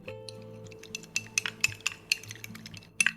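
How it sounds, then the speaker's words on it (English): Egg mixture with saffron being stirred in a bowl, a utensil clinking and scraping the sides in quick irregular strokes, close and fairly quiet, over a low steady hum. "We will mix this thoroughly and very well so that our egg mixture becomes perfectly smooth and completely uniform in consistency"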